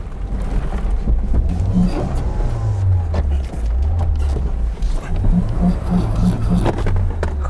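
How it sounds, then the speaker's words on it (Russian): A Lada Niva Bronto with self-locking differentials climbs a hill off-road, its engine droning low and steady while the diffs crunch and knock in short bursts near the start and again toward the end. "Хрустят самоблоки достаточно жестко. Но едет Нива, смотрите-ка, в горочку едет."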